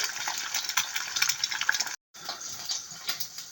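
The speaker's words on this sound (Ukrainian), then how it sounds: "додаємо на сковорідку трішки масла. І жаримо яйце." Steady sizzling and crackling of an egg frying in butter in a hot pan, dense and close, with a brief dropout midway.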